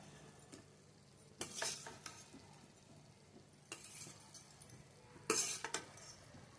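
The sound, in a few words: stirring eggplant and egg masala in a pan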